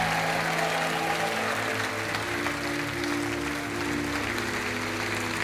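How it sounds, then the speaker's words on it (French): Studio audience on a TV game show applauding, a steady, even wash of clapping with music and tones underneath, moderately loud and unbroken. "sous les applaudissements"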